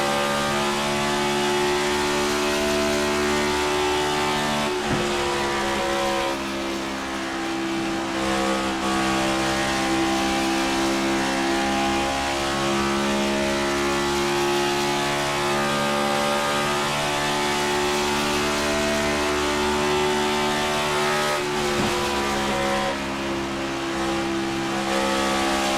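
Race cars battle for position on an oval track at the Sno-Belt Industries 125 in Chicago, a steady loud roar of several engines at high revs with brief shifts in pitch as they pass, continuous throughout.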